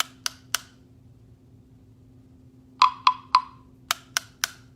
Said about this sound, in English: I gotta show you a sad tone block